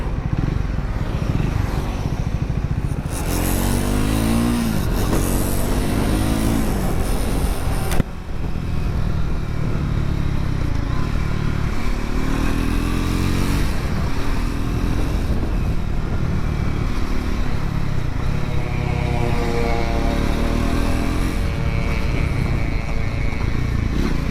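A Triumph Scrambler 400 X motorcycle's engine runs close by with a loud, continuous rumble, revving up and down in several rising and falling sweeps over about twenty-four seconds.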